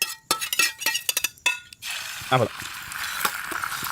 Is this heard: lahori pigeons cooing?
no